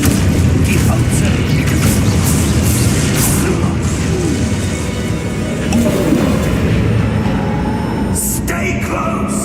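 In the Hogwarts Legacy video game, a heavy, continuous rumbling boom of spell explosions fills the scene, loud and dense throughout with bursts layered over a constant low roar.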